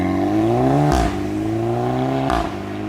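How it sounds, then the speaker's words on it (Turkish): A Volkswagen Golf GTI with a DSG gearbox accelerates under a loud engine drone, with two abrupt exhaust blats at each upshift as the revs drop and climb again. "her vites atışınızda egzozdan fırlayan, internette DSG fart derseniz bir sürü videosunu bulabileceğiniz o malum fırtlama sesi geliyordu"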